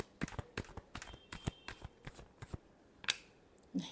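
Tarot cards are shuffled by hand in a quiet room, producing a series of soft, crisp riffling slaps and flutters in an uneven rhythm, close and fairly faint.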